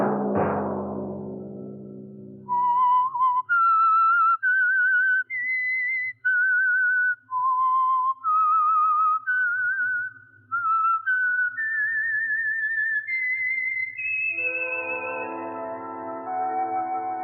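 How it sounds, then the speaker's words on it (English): Whistled theme signature of The Whistler, a 1950 Signal Oil radio mystery program: a lone, clear melodic whistle of stepped sustained notes, loud and close, following a fading low musical chord, with no talking. "Let that whistle be your signal each Sunday for the Signal Oil program, The Whistler."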